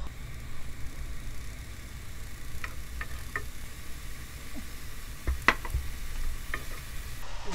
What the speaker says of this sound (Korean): 들기름에다가 볶아.